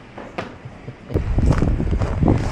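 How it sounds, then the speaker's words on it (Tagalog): Strong wind rushes and buffets outdoors in Toronto, swelling into a loud, rumbling roar against the microphone after a quieter start with a few faint rustles and steps. "ang lakas ng hangin"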